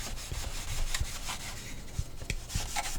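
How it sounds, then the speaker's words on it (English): Scotch-Brite pad rubbed gently back and forth on brass plates inside a coin changer hopper, a soft close scratchy scrubbing with a few light knocks, no talk. "you're going to want to take your Scotch-Brite, again with the 2 brass plates that's in the hopper. You're going to want to gently rub on them"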